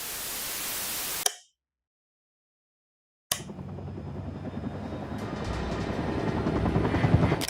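Helicopter noise from the video game Still Wakes the Deep: a broad rotor roar cuts abruptly to two seconds of silence, then returns as a dense, growing rumble with static-like hiss.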